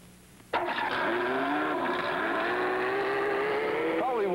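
Ford GT race car drifting through a constant-radius bend, the engine bursting in suddenly and holding a loud, sustained high-revving wail with a rising pitch toward the end.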